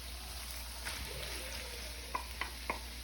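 Pork frying in a pan for fried rice, a low steady sizzle with a few sharp clinks of a utensil scraping the pan near the end.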